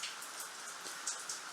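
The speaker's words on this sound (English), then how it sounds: "Sorry about the background noise, but it's pouring with rain." Heavy rain pouring down outside, a dense, steady hiss of drops with occasional brighter splashes, heard fairly faintly and with no voices.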